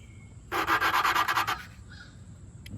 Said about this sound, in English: That's the valve finding a good contact surface with the seat.